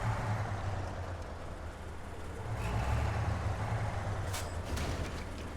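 Air brakes on a heavy off-road truck in the SnowRunner video game release with a broad hiss, holding as a steady rumble of engine and air over several seconds, without talk.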